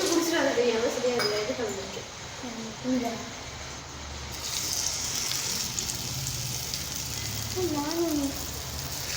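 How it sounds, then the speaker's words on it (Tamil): Potato pieces frying in oil for an Indian potato curry, a steady broad sizzle with faint clinks, running under a woman's speech throughout. "மீதி இருக்க எல்லாத்தையும் எண்ணெயில் போட்டு நல்லா பொரித்து எடுத்துக்கலாம்."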